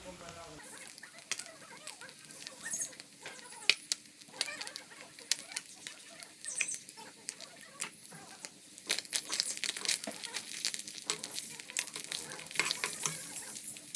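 Fish frying in a pan over a raised flame for an Assamese fish dish, a steady crackling sizzle with scattered pops and stirring scrapes, fairly faint and continuous throughout.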